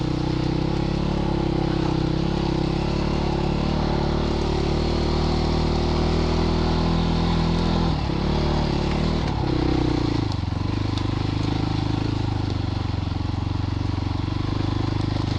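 A Christini all-wheel-drive 250cc dirt bike chugs uphill in first gear with a steady, loud, low engine drone and some clatter from the ground, close to the rider and without speech.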